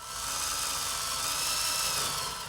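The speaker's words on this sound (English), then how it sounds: "before you can remove the lower section, you have to drill out the spot welds" A spot weld cutter drills out spot welds on a car's lower rocker panel section, giving a steady, loud, high-pitched whine that holds for a couple of seconds with no voices.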